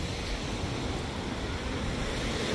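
Sea waves wash onto a beach at sunset, a broad continuous roar of surf mixed with wind buffeting, loud and close with no talking.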